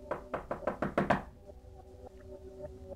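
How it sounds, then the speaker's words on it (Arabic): Six rapid, loud knocks on a door in a quick burst, followed by a quiet, humming room with no voices. "قطع سرحاني وتفكيري خبط على الباب تاني"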